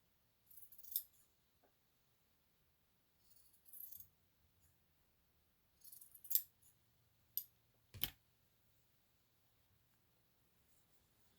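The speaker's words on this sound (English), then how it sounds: "instead of ripping the old stitches, I'm just gonna cut part of it so it's not too bulky." Scissors snipping through old stitches on a formal prom dress, a handful of quiet, sharp metallic clips spaced a second or two apart in a near-silent room.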